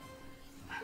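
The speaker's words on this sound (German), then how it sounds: "Der Hund dreht gleich durch" A pet dog at home gives a single quick, faint yip toward the end of a brief stretch of quiet room hum.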